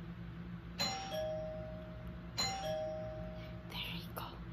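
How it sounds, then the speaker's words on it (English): A doorbell chimes twice with two-tone ding-dong notes, each followed by a ringing sustained tone, heard indoors against a steady low household hum, with a brief rustle near the end. "She will ring the bell."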